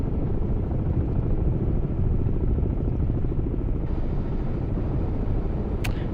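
Helicopter in the submarine video game Cold Waters, a loud, continuous rotor chop with a heavy rumbling drone and a rapid pulsing beat, steady throughout with a short high blip near the end, no talking.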